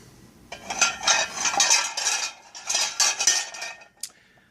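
Griswold cast iron pans, small and large block, being handled: a series of metallic clanks and scraping clinks in uneven bursts, close and fairly loud, ending in a single sharp knock.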